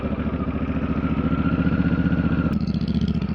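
Honda Africa Twin 1100 motorcycle engine running at a steady, close idle with a rhythmic low throb and mechanical clatter, a brief click near the end, no voices.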